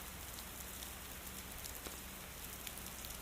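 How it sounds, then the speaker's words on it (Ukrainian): Rain falling in a park with large trees, a steady soft hiss of drops with occasional sharper patters, even and continuous. "На прогулянку і пішов дощ."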